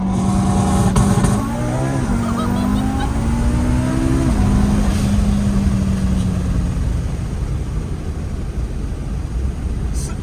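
An Audi car engine revs hard at full throttle, its pitch climbing sharply through a gear before settling into a loud, sustained roar with road noise.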